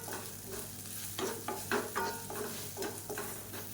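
Podi idli being stirred in a pan with idli powder and ghee, a faint sizzle with repeated scraping strokes of the spoon at an irregular rhythm.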